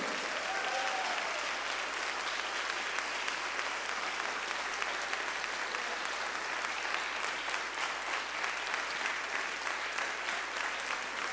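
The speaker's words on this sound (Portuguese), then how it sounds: "Fiquem em pé, dê um aplauso ao Espírito Santo." A church congregation stands and applauds, giving one continuous, even wash of clapping that holds steady throughout at moderate volume.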